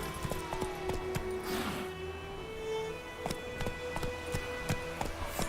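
Horse hooves in The Witcher 3 clip-clopping in a quick, uneven rhythm of sharp taps over a soft ambient bed, with a brief whooshing swell partway through.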